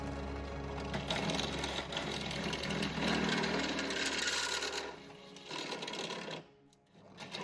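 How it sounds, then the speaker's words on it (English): Continuous whirring of a step drill bit with oil enlarging a hole in metal for a fence gate, loud and steady, dropping off briefly near the end before resuming. "This is the next size up step drill bit that we had."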